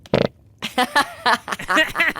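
A short voiced fart imitation, one quick burst followed by a spoken voice talking immediately afterward.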